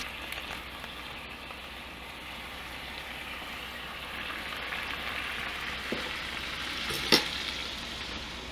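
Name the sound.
sauce sizzling on a hot pan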